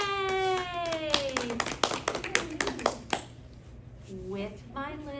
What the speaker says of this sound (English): With my little hands, I go clap, clap, clap.